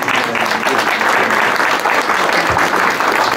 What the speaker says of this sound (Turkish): Bir alkış alalım.